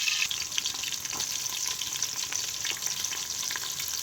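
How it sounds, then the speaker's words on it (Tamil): Fennel seeds, curry leaves and shallots fry in hot oil inside a cooker, producing a steady, bright crackling sizzle with light stirring scrapes underneath. "ஒரு குக்கரில் எண்ணெய் ஊற்றி எண்ணெய் சூடானதும் பெருஞ்சீரகம் அடுத்து கருவேப்பிலை அடுத்து சின்ன வெங்காயம்"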